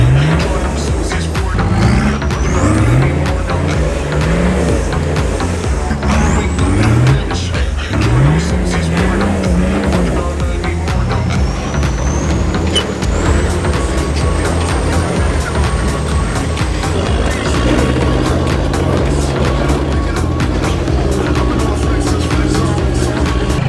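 A 4WD rig with its lockers engaged crawls up a rut on a dirt track, its engine droning loudly and steadily with rising and falling revs, a continuous close mechanical roar throughout.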